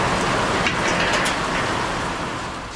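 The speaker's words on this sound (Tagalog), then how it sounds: "Sobrang lakas po ng ulan." Heavy rain pouring down, a dense, loud, unbroken hiss of rainfall on surfaces that stays steady throughout and eases slightly near the end.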